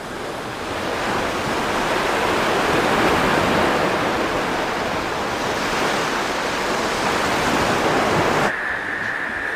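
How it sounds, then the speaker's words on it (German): Sea waves wash in a broad, continuous roar of surf, steady and fairly loud throughout, ending with a sudden shift to a quieter background near the close. "Hör mal das Meer."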